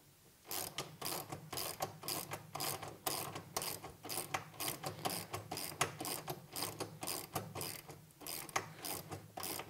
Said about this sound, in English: we'll take our socket and our combination wrench